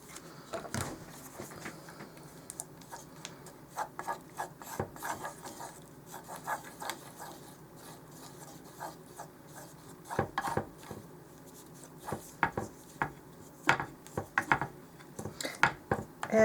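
Caulk being stirred with burnt umber and raw umber brown paint using a jumbo craft stick, producing irregular soft scraping and tapping strokes against a container, close and fairly quiet, with pauses between bursts.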